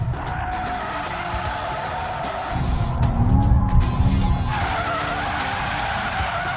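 A Mercedes-AMG E63 S with rear-wheel-drive drift mode engaged slides with loud, sustained tire squeal over a revving engine, the screech swelling midway and then easing off.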